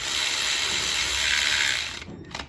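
A hand ratchet cranks down bolts on the lifter trays of a 6.0 LS engine, a loud, fast, even clicking that runs steadily and then stops with a few final clicks.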